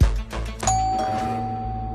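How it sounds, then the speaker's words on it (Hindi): A doorbell sounds once as a clear electronic chime and rings on with a long sustained tone in a home. A loud thud comes just before it. "कि 12:45 को डोरबेल बजी?"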